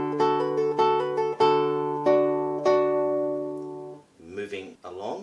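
Classical guitar plays the opening two bars of Carcassi's Etude No. 10, clear plucked notes ringing in a steady pattern over held bass tones, then the playing stops and a voice begins speaking.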